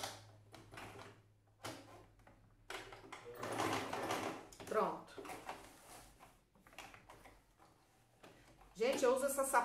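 Sewing machine stitching an appliqué patch onto a Christmas dish towel, with bursts of rapid mechanical stitching that start and stop, partly under someone talking.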